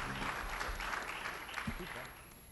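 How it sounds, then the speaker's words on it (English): Clapping from the audience at a government informational hearing on wildfire recovery, moderate and fairly distant, with a low hum and some murmur underneath, fading slightly toward the end. "Let's give them a round of applause."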